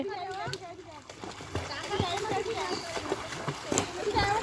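A four-year-old boy swims in a pond, splashing the water in irregular bursts close by while an adult keeps calling out to him over the sound.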